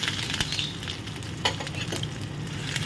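Fennel seeds and grated ginger crackle in hot oil in a pan over lowered flame, a steady close hiss punctuated by a few brief pops and spits, with no voices.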